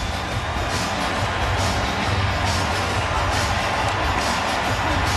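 Hockey arena crowd cheering after Canada's gold medal win over Russia at the 2015 World Junior Championship, a sustained broad roar filling the space, loud and steady throughout.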